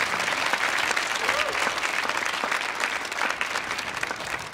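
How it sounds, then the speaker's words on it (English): Audience applause at a Millennium Stage performance, a dense, steady wash of clapping throughout, loud and close, with no clear talk over it. "another round of applause for my brothers"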